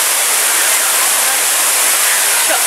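The Suuçtu waterfall in Mustafakemalpaşa, Bursa, pours with a constant dense hiss of falling water, loud and unbroken.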